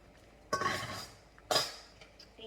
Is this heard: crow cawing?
no